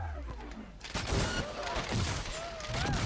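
Rapid video-game gunfire in Cyberpunk 2077: a dense, sustained burst of shots that starts about a second in and runs nonstop to the end, loud and close, with electronic whine tones and game effects layered on top.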